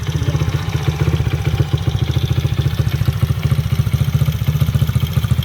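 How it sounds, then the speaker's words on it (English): Honda XR50 motorbike fitted with an 88cc big bore engine and race cam, running with a rapid, lumpy, pulsing exhaust beat at steady revs, loud and close with no talking. "Give it some revs."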